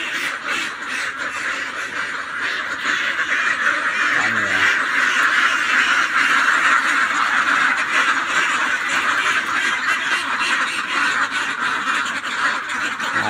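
Ducks (itik) quacking steadily throughout, a dense continuous chorus of calls at moderate volume in an outdoor rural setting, with no clear talk.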